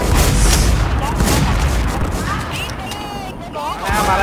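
Loud, continuous gunfire and booms in the WarZ video game, with shots rolling together through a busy firefight. Excited players talk over it throughout.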